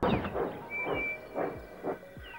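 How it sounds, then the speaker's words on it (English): Steam hissing from Percy, the small green tank engine of Thomas & Friends, in a series of soft repeated bursts over about two seconds, each swelling and fading at moderate loudness with no talk. "Percy now wheeshes steam as he complains."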